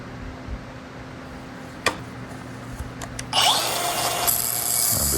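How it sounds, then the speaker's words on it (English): A power tool grinds away leftover weld bead on a Beta motorcycle kickstand, starting with a few taps and scrapes and then settling into a steady, harsh high whir close by. "I'm just kind of cleaning up some of the leftover bead from my weld."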